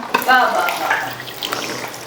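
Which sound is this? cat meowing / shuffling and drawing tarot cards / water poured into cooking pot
water poured into cooking pot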